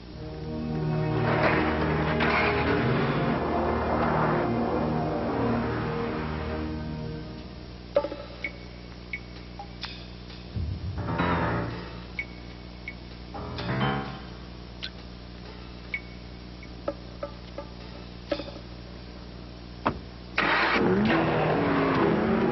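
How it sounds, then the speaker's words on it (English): A 2005 Ford Mustang engine cranks and starts, then revs hard in a few strong bursts, followed by quieter ticks and clicks and a final loud engine roar near the end, with no talking. "The 2005 Ford Mustang."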